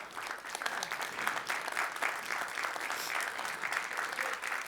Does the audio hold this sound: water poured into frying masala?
no